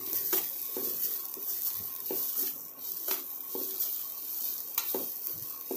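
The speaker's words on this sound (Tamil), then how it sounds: "தேங்காய் கருகாம வறுத்து எடுத்துருங்க" Grated coconut being dry-roasted and stirred in a pan, with a steady faint sizzle and regular scraping strokes of a spoon against the metal.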